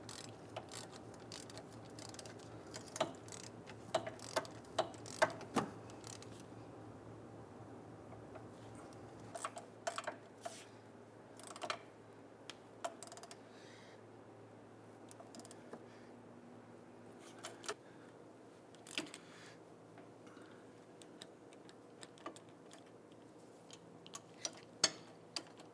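A ratchet clicks in short bursts while snugging down the rear wheel hub bolts on a 2011-2023 Dodge Charger, crisp close ticking pawl sounds separated by pauses, no talking.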